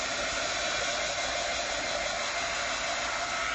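A hair dryer blows on wet paint on an illustrated Bible journaling page, a loud, steady, close whooshing roar that runs unbroken from start to finish with no talking.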